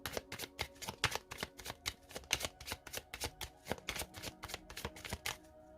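Tarot cards being laid out on a table, a quick run of soft papery slaps and flicks, dozens of close, light taps in a brisk uneven rhythm, sped up, with no talking.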